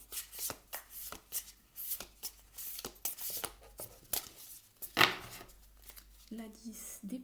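Tarot cards are flicked and handled in quick, papery bursts while a particular card is sought, close and fairly quiet, with a voice talking over parts of it.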